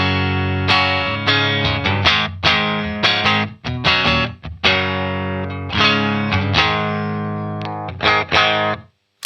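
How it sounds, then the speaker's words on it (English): An electric guitar played on a clean tone straight into a VX100 rings out in strummed chords and picked notes, sustained and full, with a few pauses and string noises, close and alone without voices. "This is the sound of it straight into the VX100 on a clean."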